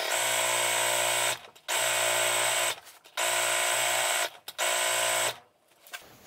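A sewing machine running at full speed stitches a button-up shirt in four loud, steady whirring bursts of about one to one and a half seconds each, close up, separated by short pauses, with no talk.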